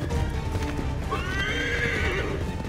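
Horse in the video game Assassin's Creed 3, rhythmic hoofbeats of a galloping horse close by, followed by a sharp neigh rising mid-clip.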